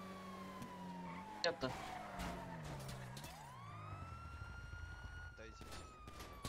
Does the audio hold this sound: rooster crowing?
no